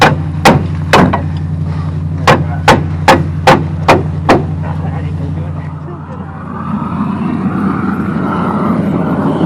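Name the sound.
hammering on truck leaf springs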